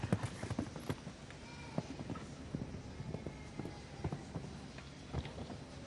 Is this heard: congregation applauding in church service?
no